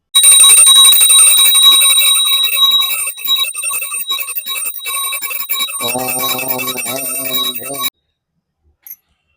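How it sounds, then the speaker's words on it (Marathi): A ritual bell rings during a household puja in a steady, loud, sustained metallic ringing. It thins into lighter strikes partway through and then stops abruptly. "आपल्याला शंख अथवा घंटानाद करणं सुद्धा गरजेचं असतं"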